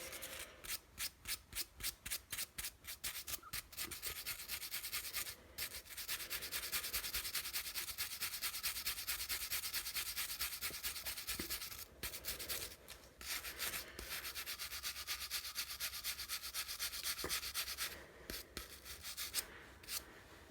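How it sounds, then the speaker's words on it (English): A wire brush scrubs the piston rings of a weed whacker engine with steady, close, raspy strokes, in quick rhythmic passes at first and then longer continuous scrubbing broken by brief pauses. "I got a wire brush here."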